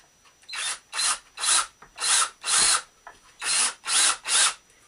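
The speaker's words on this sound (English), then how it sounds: "Get your drill or your screwdriver." A power drill or screwdriver drives screws during assembly of a Spinolution Wind spinning wheel, giving about nine short whirring bursts in a steady start-stop rhythm, close and fairly loud, without talk.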